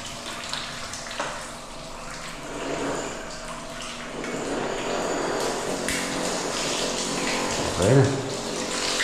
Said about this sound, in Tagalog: Itong telephone shower, ayan, okay na.